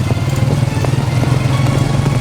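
A motorcycle rides along a path between farm fields, its engine droning steadily and loud throughout with a low, even throb and no talk.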